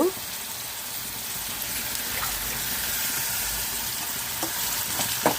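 Banana and mango curry sizzling in a pan after turmeric and salt go in, a soft steady frying hiss with a few scrapes and clinks of stirring, fairly quiet under light talk.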